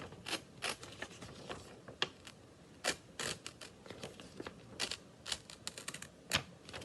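A sheet of paper torn slowly by hand along a sharp crease, heard as a long run of small crisp ripping bursts at an uneven rhythm, close and fairly quiet.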